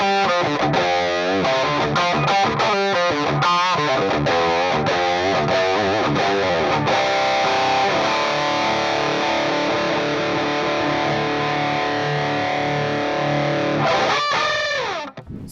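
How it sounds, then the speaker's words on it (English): A Les Paul guitar plays classic rock riffs through a medium-gain modeled Marshall 67 Super Lead Plexi with an EL84 mod, loud and distorted, with choppy palm-muted chugs giving way to a sustained ringing chord and a final flurry. "it features a medium gain setting on the HeadRush version of the Marshall 67 Super Lead Plexi with an EL84 mod on Revalver 5."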